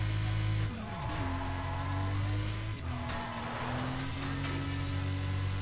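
Car engine in the Burnout Paradise racing game droning loudly, with a sharp pitch drop near the start and another dip midway as gears shift, then the revs climbing again.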